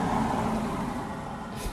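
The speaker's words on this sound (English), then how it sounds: "I'm sure you would have heard that car just drive past" A car drives past on a road, a soft, low whoosh that swells briefly and fades, fairly faint against quiet outdoor background.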